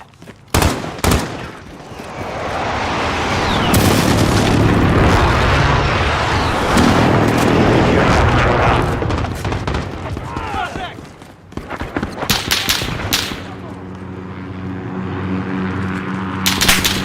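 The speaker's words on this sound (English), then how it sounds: "Enemy precision airstrike." A precision airstrike in Call of Duty Modern Warfare (2019) arrives as a long roaring rumble of jets and explosions that swells and holds for several seconds, followed by scattered sharp blasts, with game voice callouts mixed in.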